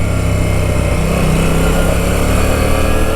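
A Moto Guzzi V9 Bobber motorcycle rolls along and slows toward a stop, its engine giving a loud, steady drone with a low throbbing beat throughout.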